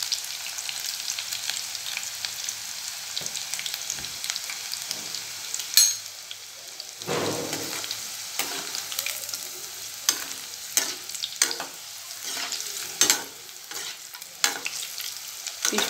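Banana flower pakoda deep-frying in hot oil, with curry leaves added, as a steady close crackling sizzle punctuated by frequent sharp clinks and scrapes of a ladle against the pan, with no one talking.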